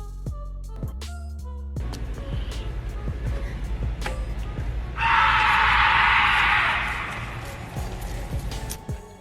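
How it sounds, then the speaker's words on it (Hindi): A terrifying scream rings out at night in a graveyard, a loud, sustained shriek lasting a couple of seconds over dark ambient noise and scattered thumps. "यकदम एक खौफनाक चीख की आवाज आने पर"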